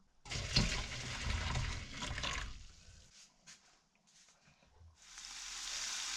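Fly agaric mushrooms sizzling and crackling in a hot pan of butter and oil, loud at first, easing into quieter pops and stirring, then a steady hiss returns.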